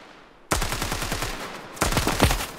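Rapid automatic gunfire in a shooter video game comes in two loud sustained bursts, each a fast rattling string of shots, with a short pause between them and no talking.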